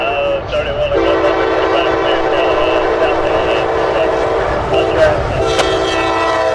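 A CSX Tropicana intermodal freight train rolls past on the Nahunta subdivision toward Jacksonville, a loud, sustained multi-tone horn blaring over the rumble and rattle of the passing cars.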